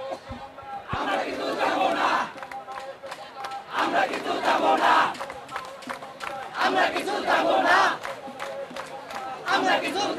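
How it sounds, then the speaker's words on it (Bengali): Protesters at a rally in Dhaka chanting slogans: a loud crowd shouting in rhythmic, repeated waves with short pauses between chants. "আমি সংক্ষিপ্ত আকারে একটু তাদের স্লোগানগুলো শোনাতে চাই আপনাদের।"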